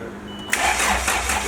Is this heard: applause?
no